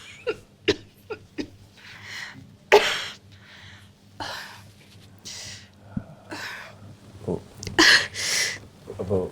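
A woman coughs up blood, repeated harsh coughs and raspy breaths coming in uneven fits, close by, with gasping in between.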